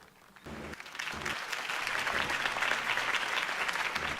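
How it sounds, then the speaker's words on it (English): A crowd applauds after a campaign speech in the Batman Telltale Series video game, clapping that swells quickly from a few hands to dense, sustained applause, near and loud with no speech over it. "could have heard that applause"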